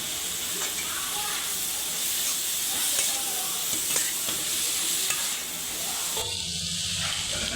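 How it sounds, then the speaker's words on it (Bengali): Chicken keema simmering in a pan, a steady broadband sizzle and hiss with repeated scraping strokes as it is stirred, close and continuous throughout. "মাংস থেকে যতক্ষণ জলটা বেরোচ্ছে ততক্ষণ আমরা জলটা ফুটিয়ে নিতে হবে।"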